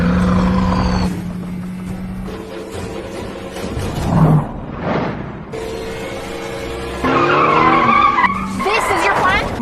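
A car skids hard while turning around during a chase, tires squealing in bursts over engine noise, with a loud swelling screech near the middle and more squeal toward the end.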